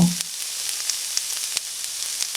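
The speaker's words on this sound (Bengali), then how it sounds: "এখানে এখন আমি আমগুলোকে দুই থেকে তিন মিনিটের জন্য হালকা আঁচে একটু ভেজে নেব" Green mango pieces frying in a pan with turmeric and salt over low heat, producing a steady soft sizzle with faint crackles throughout, alone and without talk.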